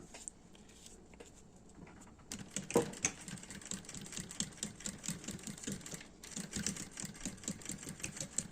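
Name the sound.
sewing machine stitching lining near the edge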